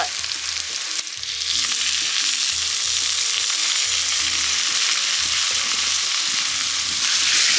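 Big onions, small onions and green chillies sizzle loudly in hot oil in a village cooking pan, a steady crackling fry with rhythmic scraping and stirring strokes throughout.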